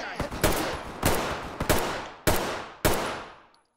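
Gunfire in the tactical shooter Ready or Not: five sharp, loud shots in irregular succession, each ringing out with a long echoing decay in an enclosed space, no talking.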